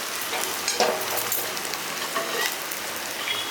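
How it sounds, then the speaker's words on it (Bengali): Rewaji mutton (goat meat) being sautéed and stirred in a pan, with a steady close sizzle broken by scraping stirs throughout, no talk. "মাংসটা ভালো করে বেশ কষানো হয়ে গেছে"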